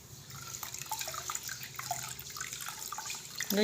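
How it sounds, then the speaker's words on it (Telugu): Water splashes and trickles into a large bowl in a steady, close stream, with small drips and a louder clatter at the end. "పెద్ద గిన్నెలో వాటర్ పోసుకొని ఇలా తీయాలి"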